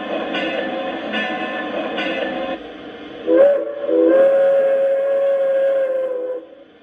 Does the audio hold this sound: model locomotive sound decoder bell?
yes